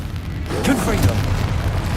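A Confringo fire blast spell from Hogwarts Legacy goes off as a single booming burst with a rumbling tail, loud and close, while a voice calls out over the game sound.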